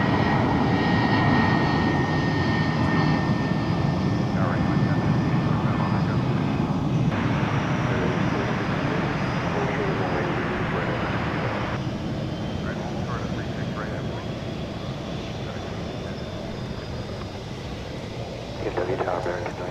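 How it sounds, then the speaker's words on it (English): A Boeing 767 jet airliner readies to push back at Dallas/Fort Worth airport, its engines a steady loud broadband roar throughout, with voices speaking over it and a brief swell near the end. "There's another 767 getting ready to push back."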